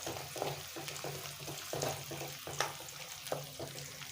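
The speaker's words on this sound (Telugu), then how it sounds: "అలాగే పచ్చిమిర్చి వేసి వేయించుకోవాలి." Green chilies and onions fry in a pan for restaurant-style chicken Manchurian, a soft, close sizzle with rhythmic scraping and stirring strokes repeating every half second or so.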